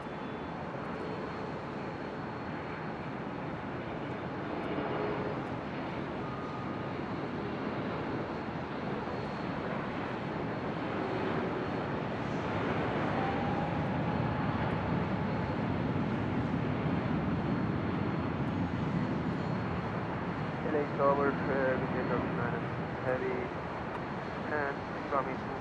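An airliner takes off from runway 24 left at LAX, heard from a high hotel rooftop as a steady, broad engine roar under wind noise, with a voice talking over it throughout.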